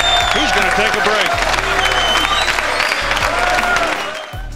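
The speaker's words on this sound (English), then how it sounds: "the crowd, who mocked the gesture and cheered loudly for Davis" Loud snooker crowd applauding and cheering for Steve Davis during his match with Strickland, a dense, sustained roar of clapping and shouts that fills the whole stretch.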